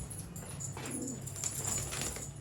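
Domestic pigeons from a fancy breeding loft give a soft low cooing with a brief rustle of movement, steady and fairly close against a constant background hum.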